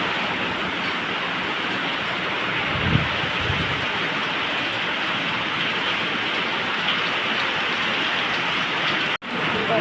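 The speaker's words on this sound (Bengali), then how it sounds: "কত জোরে বৃষ্টি পড়ছে," Heavy rain pours steadily outside while someone stands inside a temple, a dense, loud, unbroken hiss of falling water that holds for the whole stretch.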